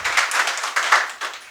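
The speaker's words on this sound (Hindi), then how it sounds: "एक बार बहुत जोर से तालियों के साथ स्वागत कीजिए इनका" A small audience claps to welcome a college department head at a campus mathematics seminar, short uneven bursts of clapping with distinct rhythmic peaks, fairly close and unaccompanied by talk.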